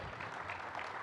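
Audience applause at the close of an insurance conference panel in Casablanca: a steady, dense wash of many hands clapping, fairly faint and distant, lasting about a second with no voices over it.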